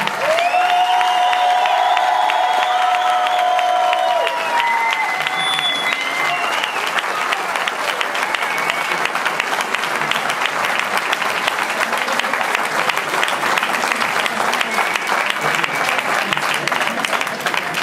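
A club crowd at a tenth-anniversary event gives loud, sustained applause for a champion, dense clapping with some cheering throughout, while a voice and tonal music play over the first few seconds.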